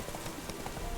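Hoofbeats of Geralt's horse Roach in The Witcher 3, a quick, steady clip-clop of galloping hooves running close under a continuous ambient wash, with no one talking.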